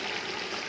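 Water poured into a pot of Peshawari boneless paye, a steady rushing splash with no pauses.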